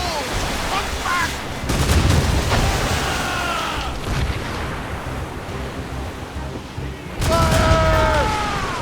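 Naval battle in Assassin's Creed Rogue, with heavy booming cannon blasts and crackling volleys over a roar of waves and wind, crew voices shouting in between.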